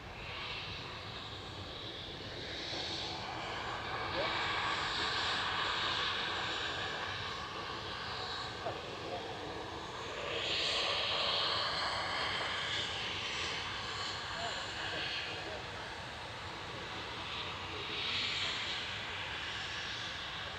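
An EasyJet airliner's jet engines roar as it departs Manchester Airport, a broad steady rumble heard from a distance that swells and fades in waves as the aircraft climbs away.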